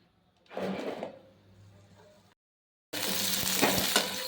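Onions frying in oil for a chicken gravy: a crackling sizzle rises, fades, stops for a moment, then returns as a loud, steady hiss with small pops.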